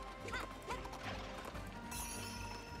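Hooves clattering along with a horse whinny in the Princess Peach Showtime train escape, rhythmic clip-clop over dense game music, followed by a brighter crashing burst near the end.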